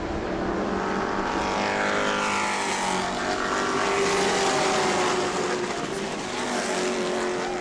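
Race trucks pack together on the New Smyrna oval, a loud sustained roar of many engines with sweeping pitch shifts as they pass close by, dense and continuous with no talk audible.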